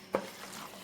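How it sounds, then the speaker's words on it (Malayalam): Kiwi pickle is stirred once in a hot pan: a single quick scraping stroke, followed by a faint, steady sizzle. "ഇനി ഒന്ന് ഇളക്കിയിട്ട് ബാക്കി ഒന്ന് നോക്കാം"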